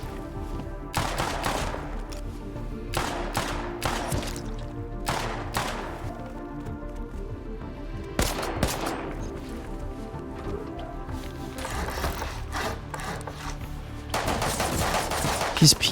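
Bursts of rapid automatic and single gunfire from the survival video game Rust, loud and repeated in clustered volleys with short gaps, set against a steady background of game music and ambience.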